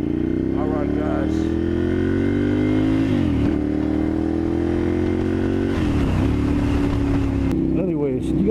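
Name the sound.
motorcycle engine while riding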